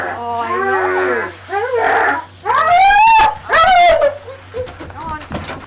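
A dog at a grooming session lets out a string of high, wavering whimpers and whines, loud and close, in rising and falling cries that come in bursts with short gaps.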